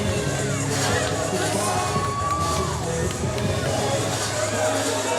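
A crowd at a Vanguard Championship Wrestling show cheers and claps without a break, a dense roar of voices and applause in an arena, while a commentator talks over it.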